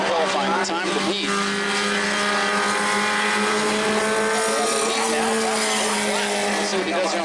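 A Bomber-class race car on a qualifying lap at New Smyrna, its engine roaring steadily and loudly at speed with slight pitch shifts through the corners, under an announcer's commentary.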